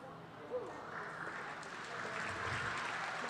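Steady applause and cheering from the crowd at a paraclimbing national championship final, heard as a faint, distant wash under a commentator's voice.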